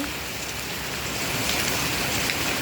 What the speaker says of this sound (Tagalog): Ako naliligo ako dito sa ulan